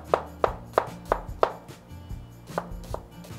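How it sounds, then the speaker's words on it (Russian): A knife chops an onion into small cubes on a cutting board, a brisk run of five sharp close knocks followed by a few softer, more scattered cuts. No talking. "Лук режем мелким кубиком."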